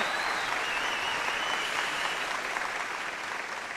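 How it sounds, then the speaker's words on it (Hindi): An audience at the Jashn-e-Rekhta poetry festival claps for a poet, a dense, even round of applause heard from a moderate distance and held at a steady level with no talking. "तो इनके लिए तालियां बजाइए"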